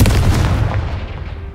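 A Confringo fire spell blasts in Hogwarts Legacy, a loud, close booming burst that hits at once and then decays over about a second with a rumbling tail.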